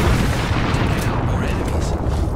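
Airstrike blasts in the Apex Legends battle royale game, a dense continuous rumble of heavy booms and bursts rolling loudly throughout with no clear gaps between impacts.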